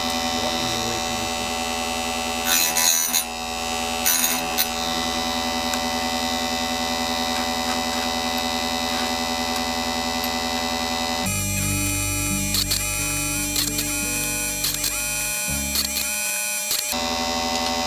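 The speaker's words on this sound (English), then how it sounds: "It doesn't take a lot of force to make the chainsaw sharpener work." A Harbor Freight chainsaw sharpener grinds the teeth of a saw chain with a steady electric whine and hum. A few brief bursts come early, and the tone shifts and roughens partway through as the grinding continues.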